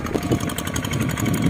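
A Vietnamese RT155 engine on a farm tiller working the soil runs nearby with a steady, labored chugging putter, no voices over it.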